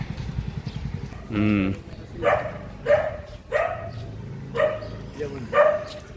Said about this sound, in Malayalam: ആ എവിടെ പോയാലും പട്ടിച്ചേട്ടന്മാരുണ്ടല്ലോ